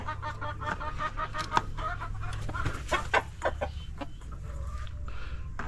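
A hen clucking in short, irregular bursts at moderate distance, with soft background noise and no talking.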